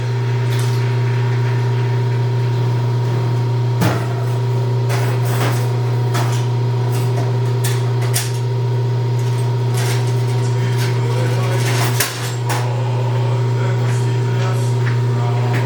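A PM 1640 lathe drills a 1/2 inch hole into a center-drilled spindle support part, a steady loud motor hum with a low drone and faint intermittent ticks and clicks from the cut.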